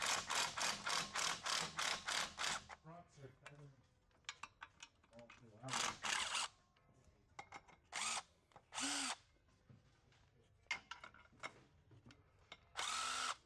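A ratchet clicks rapidly in bursts while loosening bolts on the transmission of a 2006 NC Miata during a 5-speed to 6-speed swap, the close metallic ratcheting alternating with quieter gaps and handling noises.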